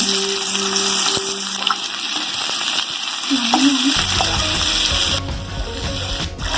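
Onion and garlic fry in a pan alongside prawns, giving a steady close sizzle and crackle broken by a few scraping stirs and a faint hum, with the frying noise changing tone near the end.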